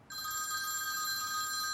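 A telephone rings continuously with a bright, steady electronic trill that starts abruptly and holds for under two seconds, close and clear with no talking over it.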